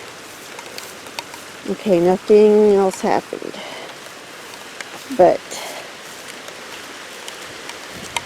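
Steady rain falls throughout as a constant near hiss of drops, running under a few brief spoken words from a man.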